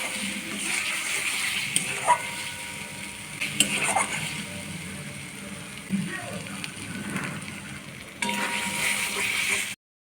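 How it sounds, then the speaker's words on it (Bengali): Spices and mushrooms are stir-fried in a pan for a home-style mushroom masala. A steady close sizzle and hiss holds throughout, with occasional soft scraping clicks, until it cuts off abruptly at the end. "সব কিছু ভালো করে কষে নেব।"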